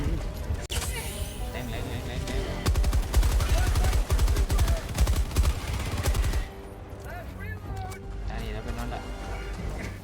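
Dense automatic gunfire and rapid bursts from Helldivers 2 crackle loudly, peaking in the middle before easing into a lower rumble, with a voice shouting over the shooting.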